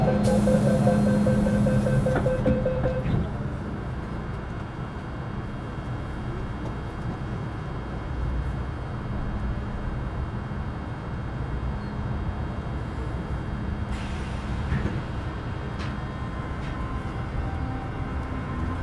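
An MTR Metro Cammell C453 CT-stock train on Hong Kong's Kwun Tong Line, with a continuous rumbling rail roar and rolling wheel noise. A fading tonal hum opens it, and the loudness stays steady with no speech.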